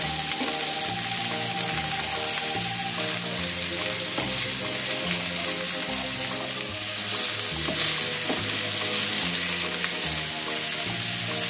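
A stalk, potato and poppy seed dish is turned over with a spatula as it fries in a pan. Steady sizzling comes with scraping strokes, heard under continuous background music.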